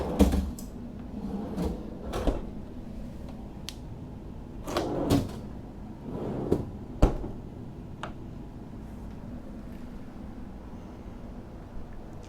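Refrigerator drawers in the galley of a 2017 Sea Ray L590 yacht are pulled open and pushed shut, giving several quiet sliding thumps and clicks spaced out over a soft background hum.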